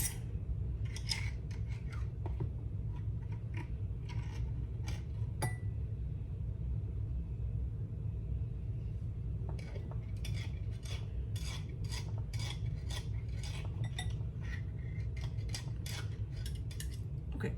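A knife scrapes and clinks inside a jar of sambal, producing quiet, scattered metallic ticks and taps in irregular bursts against a low background hum.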